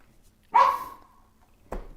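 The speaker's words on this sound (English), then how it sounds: "That's my little dog Willie." A small dog gives one sharp, close bark, then a shorter second yip follows about a second later in an otherwise quiet room.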